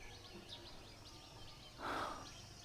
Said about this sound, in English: I think they might be martins of some sort.